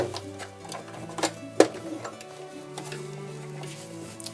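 A sewing machine stitching with thread tension set to zero, giving soft rhythmic ticking and clicking with one sharper click, fairly quiet and close.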